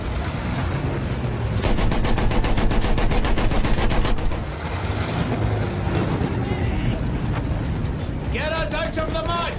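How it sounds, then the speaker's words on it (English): Machine gun fire in the WWI video game Battlefield 1, rapid rattling bursts over constant wind-like battlefield roar, with voices shouting in the mix. "Machine gun!"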